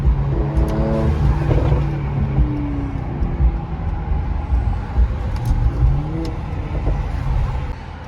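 A 2020 Mercedes C43 AMG fitted with an AMG performance exhaust rumbles close and loud from inside traffic, its deep exhaust note rising and falling as it accelerates and eases off.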